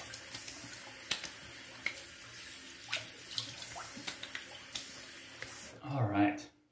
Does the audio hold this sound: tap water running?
yes